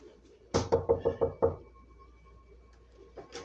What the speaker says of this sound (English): they get a knock at the door